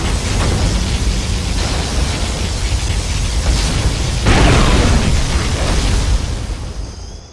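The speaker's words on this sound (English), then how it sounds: "Particle cannon ready. Submission, sir. Particle cannon activated." A particle cannon in Command & Conquer Generals Zero Hour fires a long, loud, roaring energy blast, a sustained noisy surge that swells partway through and then tapers off at the end, with no voices over it.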